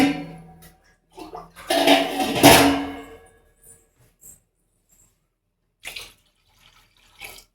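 Water is poured into a cooking pot for boiling mutton, a splashing gush lasting about two seconds, followed by quiet with a few faint later splashes.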